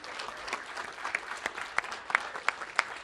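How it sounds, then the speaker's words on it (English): A small audience at a housing opening press conference claps briefly, a thin, scattered patter of individual hand claps with a few sharper, louder slaps standing out. "That's your applause."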